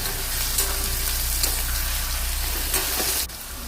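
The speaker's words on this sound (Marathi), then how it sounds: "कांदो मातसो तळसलो की तातूंत भितर बटाट कट केला तो घालपाचो." Onion and potato pieces frying in a pan for Goan prawn tonak, a steady close sizzle with faint stirring scrapes, ending abruptly with a drop in level; no talk.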